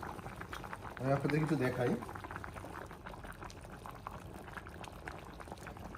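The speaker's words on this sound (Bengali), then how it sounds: "হালকাভাবে উতরাচ্ছে" Meat simmering gently in water in a covered pot, a low steady bubbling throughout, with a short burst of speech near the start.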